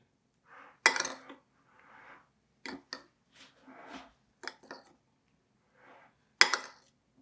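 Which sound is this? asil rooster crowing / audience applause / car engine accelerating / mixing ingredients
mixing ingredients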